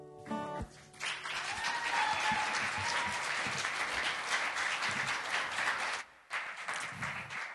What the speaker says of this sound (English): Hey, give him another round of applause.